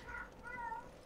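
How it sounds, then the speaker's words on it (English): A cat meows faintly in the background, two short rising calls in quick succession during a co-op Resident Evil 5 session. "Who the fuck is meowing back there?"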